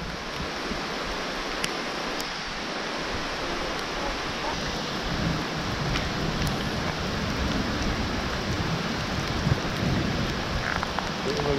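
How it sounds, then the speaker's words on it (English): A heavy downpour falls on a wooded nature trail as a dense, steady hiss of rain that holds constant throughout, with faint rumbles in the low end. "it officially just started a downpour"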